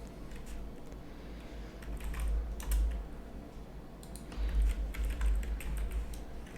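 Quick bursts of typing on a computer keyboard, close and fairly quiet, with clusters of rapid key clicks separated by short pauses.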